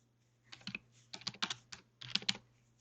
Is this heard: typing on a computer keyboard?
yes